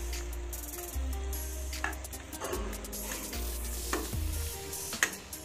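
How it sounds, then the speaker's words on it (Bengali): Puti fish frying in a wok with raw tomato and spices, a steady loud sizzle broken by scraping stirs and a few sharp utensil clicks, close and continuous with no talking. "এবার এপিঠটাও 1 মিনিট মতো কষিয়ে নেব।"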